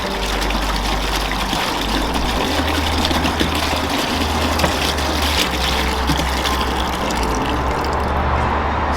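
Distilled water glugging and pouring out of a gallon jug, a steady close trickling and gushing stream that continues for several seconds over a low constant hum.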